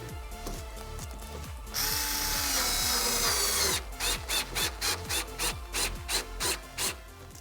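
A cordless power tool tightens plastic bolts on a Ford Ranger tail light. A rattling ratchet-like clicking is followed by a two-second steady whir, then a run of short, evenly spaced bursts close up, with no talk.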